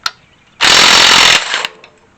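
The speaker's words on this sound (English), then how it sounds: "go in there and then take an impact wrench" A 15/16 impact wrench spins off the alternator pulley on a 1980 Ford F100: one loud, dense hammering burst of just under a second, with a softer rattling tail as it winds down, close and without talk.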